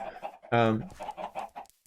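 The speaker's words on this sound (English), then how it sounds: "these chickens are really loud, I'm sure" A chicken lets out a loud, close squawk in a farm-building video game, preceded and followed by short rapid clucks in a choppy rhythm.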